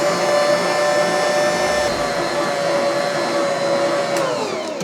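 A mixer blends flour for sourdough English muffin dough with its lid on, giving a loud, steady motor whine that runs unbroken for about four seconds and then begins to wind down.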